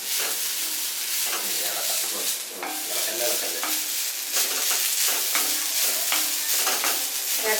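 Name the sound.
stirring and roasting in a pan until golden brown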